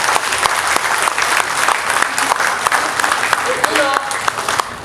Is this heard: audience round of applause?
yes